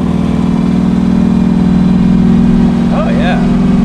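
A 765 HP fuel-injected big-block Chevy engine idles warm in a 1934 Ford Coupe with a loud, steady, even low rumble throughout, while a voice briefly sounds near the end.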